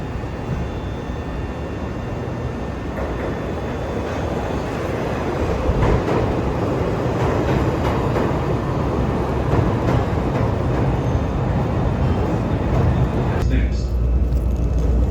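A Chicago L Purple Line elevated train rumbles along in a loud, continuous roar, heard from inside with a steady rolling drone and a brief drop near the end.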